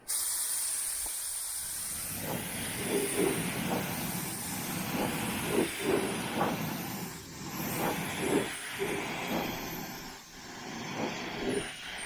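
A cheap $10 Harbor Freight spray gun sprays thinned primer onto the body of a 1981 Chevrolet Silverado being rebuilt after rust repair. The steady loud airy hiss comes in repeated pulsing passes and runs alone, with no voices.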